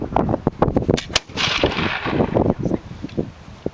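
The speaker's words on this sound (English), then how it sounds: "What if you've got hundreds of muskets going off with no wind and high humidity?" Flintlock muskets fired in a drill demonstration at Valley Forge, heard as a rapid run of sharp, loud reports and crackling bursts, some overlapping, across a few seconds outdoors.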